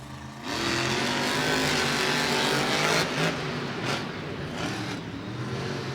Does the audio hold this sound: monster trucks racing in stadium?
yes